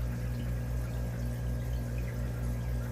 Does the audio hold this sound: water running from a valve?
yes